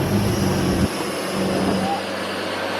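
A Nissan Skyline R33 with an RB25 engine running on a dyno, a loud sustained droning roar that drops in pitch partway through, with voices over it.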